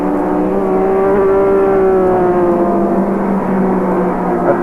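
Jim Richards' left-hand-drive BMW Group C touring car at Sandown in 1984 holds a loud, steady engine drone with a faint rising pitch, sustained close by throughout and with no voices over it.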